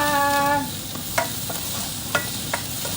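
Onions being sautéed in a pan with garlic, a steady close sizzle with a few sharp stirring scrapes and clicks, following a short trailing voice at the very start.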